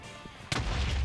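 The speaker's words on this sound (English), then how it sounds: "I told you it was a TNT cannon!" A TNT cannon in the Minecraft video game fires a single sudden, loud explosive blast partway through, followed by a rumbling tail.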